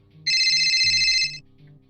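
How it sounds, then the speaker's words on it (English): A single loud electronic telephone ring sounds in a FNaC-inspired horror series, a bright warbling trill of about a second, close and clear over a quiet low ambient drone. "Phone's ringing."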